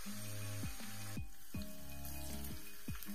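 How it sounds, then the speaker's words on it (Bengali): Cauliflower and capsicum fry in hot oil for a restaurant-style mixed vegetable dish, making a quiet, steady sizzle broken by recurring short tonal scrapes and clinks from stirring, with no voices. "ফুলকপিটা ভালো করে একটু ফ্রাই করে নিতে হবে।"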